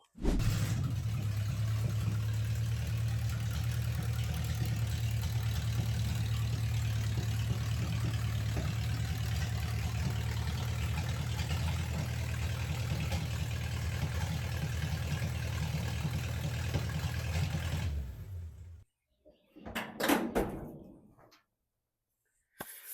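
An old Chevrolet C10 truck rolls into a carport, its engine running steadily and close for most of the time before cutting off, followed by a couple of brief clunks near the end.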